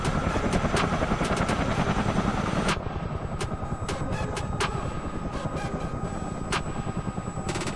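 Rotors of a CH-47D Chinook helicopter winding down in MSFS 2020: a loud, steady rhythmic whump of the twin rotors, with sharp clicks and ticks scattered over it.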